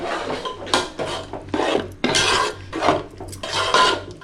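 Clams and cashew paste being stirred in a cooking pot for clam biryani: repeated rasping scrapes of a utensil against the pot, coming in uneven strokes up close with no talking.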